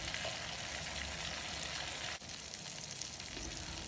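Chicken pieces frying in hot oil for a spiced chicken pulao give a steady, dense sizzle that runs unbroken and close, with no voices over it.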